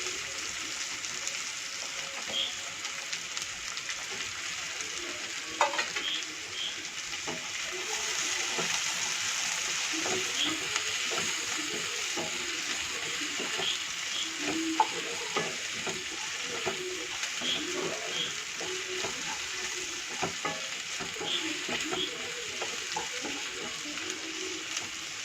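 Beans sauté in a pan over a medium flame for veg noodles, a continuous close sizzle with frequent soft stirring scrapes and occasional louder clinks across a long, steady stretch.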